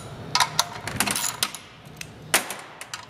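A wrench turns a 7/16 bolt on a small engine's carburetor. Close metallic clicks and ratcheting taps come in short irregular bursts, with a sharper knock near the end over quiet room tone.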